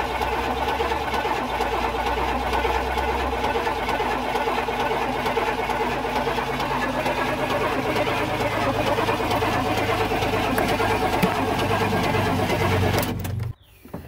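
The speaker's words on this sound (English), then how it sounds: "See how fast she spins now, boys." Chevrolet Camaro engine spinning fast and revving with a steady mechanical whir throughout, close and loud, cutting off abruptly near the end.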